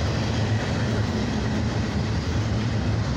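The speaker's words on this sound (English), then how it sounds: "there's a eastbound train running on the left side track" An eastbound train rolls through the Grand Ave. level crossing in Hammond, Indiana, a steady, loud low rumble of wheels and railcars that continues unbroken the whole time.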